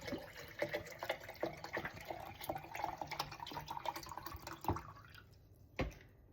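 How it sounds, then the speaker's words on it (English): Water poured into a large purple jug, filled close to the top: a faint, close trickle with scattered drips and splashes that stops near the end. "And I fill it up pretty much to the top."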